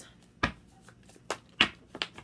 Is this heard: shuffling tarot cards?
yes